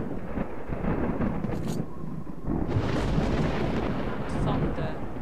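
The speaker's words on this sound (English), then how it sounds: "Thunder, but is it like post blower thunder or the other one?" Rolling thunder in the video game S.T.A.L.K.E.R. Lost Alpha, a loud, deep rumble that swells and stays heavy throughout, with a second surge partway through.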